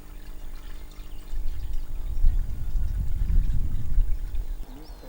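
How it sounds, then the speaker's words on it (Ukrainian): Water is poured carefully into a garden sprayer tank, a low gurgling stream that builds and stays steady for several seconds before tapering off near the end. "Обережно заливаємо воду."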